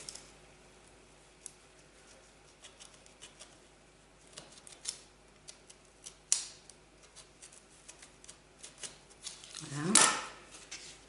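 Scissors trim fabric for a foam board inlay craft, with a scattering of quiet snips and light clicks that ends in a louder, longer cut near the close, all soft and close with no talking.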